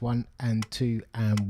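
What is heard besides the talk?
None of the usual background noises is heard.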